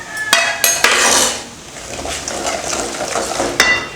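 Ginger stirred with chili powder, ground fenugreek and mustard powder in a hot pan for pickle, several sharp metallic scrapes and clanks of a spoon against the pan over a soft sizzle, close and fairly loud, with no talk.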